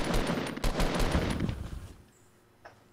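Rapid automatic gunfire in the video game Fortnite during a squad match, a dense burst of shots for about two seconds that fades out, leaving near silence broken by one faint later pop.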